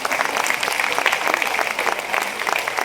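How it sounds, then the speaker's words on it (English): Audience applause at a school event, a steady wash of many hands clapping that fills the whole stretch at even loudness, with a faint murmur of voices mixed in. "please put your hands together and I give a big round of applause for everybody"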